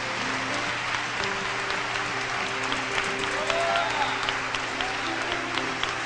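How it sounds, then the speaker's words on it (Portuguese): A church congregation claps steadily for several seconds, a dense wash of hand claps with sustained musical tones humming beneath. "Irmãos, eu quero que vocês tenham uma salva de palmas por essas pessoas."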